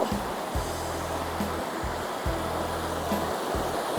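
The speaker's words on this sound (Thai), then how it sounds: "น้ำใหญ่อยู่เด้อ" A fast-flowing river in Laos runs high after heavy water, giving a steady, broad rush with no pause throughout, while low motor-like tones hum intermittently beneath it.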